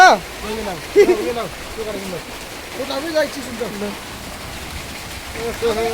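Hail comes down in Rolpa, Nepal, as a steady patter across surfaces, while a voice and tonal calls rise over it in short bursts.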